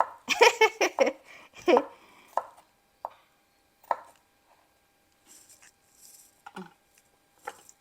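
A knife chops shallots on a cutting board in a home kitchen, a quick burst of close, crisp knocks and then a few scattered single cuts with quiet gaps between them.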